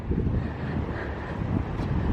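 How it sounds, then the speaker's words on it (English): Steady low wind rumbles and buffets the microphone throughout in Pärnu, Estonia, with no voices. "it's a little bit windy"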